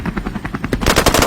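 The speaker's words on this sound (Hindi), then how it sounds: "गोलियां चल रही हैं। शिट यार, गोलीबारी हो रही है" Rapid automatic gunfire in GTA Vice City, a dense stream of close, loud shots that keeps firing and grows fuller and harsher toward the end, with no talk over it.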